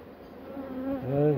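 Honeybees buzz close by in an open hive, a dense, wavering hum that swells louder as several individual bees drone near.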